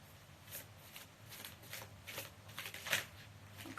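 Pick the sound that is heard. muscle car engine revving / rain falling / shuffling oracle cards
shuffling oracle cards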